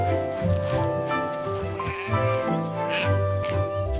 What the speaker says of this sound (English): This is our friend Sheep